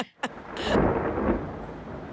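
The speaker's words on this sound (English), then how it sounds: "I think just like a rain cloud, like a thunder and lightning" A rain and thunder sound effect: a sharp crack, then a rolling rumble under steady rain, fairly soft and alone with no voices.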